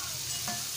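Fish fries Malvani-style in oil in a pan, giving a brief, close, continuous sizzling hiss.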